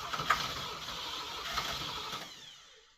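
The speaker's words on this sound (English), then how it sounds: "I'm going to touch off the starter and see if it makes any noise" An AC Aceca, registration BEX 636, has its starter motor cranked for about three seconds, a steady mechanical whirring and ratcheting close by that fades at the end. No one speaks.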